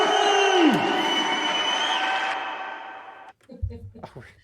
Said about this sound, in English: You can't go wrong with a crowd screaming for you.